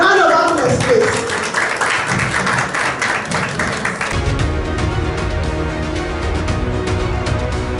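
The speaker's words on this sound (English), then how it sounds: "Round of applause, please." An audience at a televised power-industry event gives a loud round of applause for about four seconds, then the sound gives way to a different, steady background.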